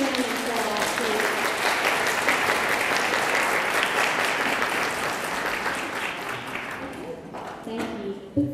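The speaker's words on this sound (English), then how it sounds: "Let's give these students a round of applause, please." Sustained applause from a school spelling bee audience, dense and steady clapping that fills the room before tapering off near the end.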